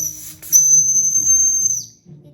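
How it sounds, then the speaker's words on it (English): An antique tin baby radar toy with a whistle on the bottom sounds one steady, piercing high whistle lasting over a second close by, ending with a slight downward slide. "Next, we are going to go to the baby radar with a whistle on the bottom."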